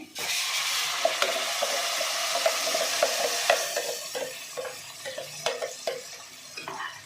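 Ground masala for mutton keema unde saaru fries in a pan with a steady, close sizzle while a spoon scrapes and stirs in irregular clinks and strokes, no voices over it.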